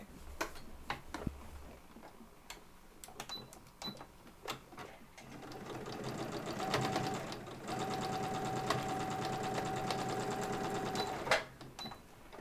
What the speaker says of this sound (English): now you're going to stitch across there to close up the bottom of your bag